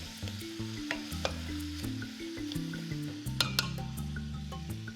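Green beans and potatoes sizzle in olive oil in a pan and are stirred, giving a soft, continuous frying hiss with scattered light clinks and scrapes under a low hum.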